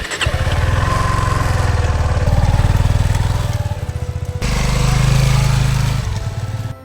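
A motorcycle engine drones steadily and loudly up close on a ride toward Bangotu village near Indrahar Pass, its throbbing note rising and falling with throttle changes and shifting briefly midway.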